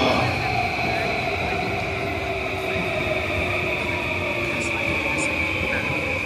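A JR Yamanote Line train in Tokyo gives off a steady, even rumble and hum, moderately loud and unbroken throughout, with a few faint higher squeals near the end.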